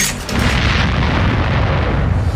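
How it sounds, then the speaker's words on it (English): A loud, deep boom that swells quickly and rumbles on heavily for a couple of seconds, close and powerful. "Well, not after that explosion there, isn't there?"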